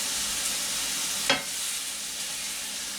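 Pork sizzles in a frying pan with a constant bright hiss, broken once by a short sharp crackle or scrape midway, and no talking.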